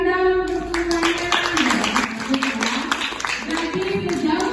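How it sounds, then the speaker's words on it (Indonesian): A classroom group of junior high school students claps hands together in a dense, steady patter, with a voice talking over the clapping throughout. "tepuk tangan dong untuk semuanya."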